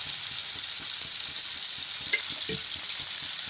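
Hot oil sizzles and fries steadily in a pan while cooking a tamarind and fish-powder curry, with light stirring scrapes and one or two louder clinks near the end; no one speaks.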